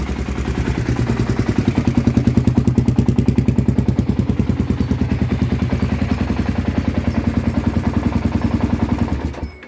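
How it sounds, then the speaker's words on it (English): A 1993 Kawasaki KLR600 dual-sport motorcycle idles steadily up close, its single-cylinder engine thumping in a fast, even rhythm with a cooling fan whirring underneath, loud and continuous until it cuts off at the very end. "You can see the fan whirring away."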